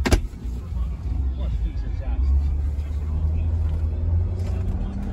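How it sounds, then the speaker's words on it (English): A car passes by on the road beside a parked 2017 Ford F-250 pickup, a low rumbling swell that builds after a sharp knock and lingers, with someone talking over it. "I'm gonna wait real quick for the car to pass me"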